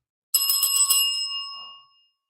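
A small bell on a ghost-hunting device rings rapidly several times, then its bright metallic tone rings out and fades over about a second.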